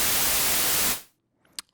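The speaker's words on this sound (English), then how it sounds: "I've just got some white noise in my first oscillator" White noise from the first oscillator of an Ableton Operator synth, a loud steady broadband hiss that fades away to near silence within about a second, followed by a faint click.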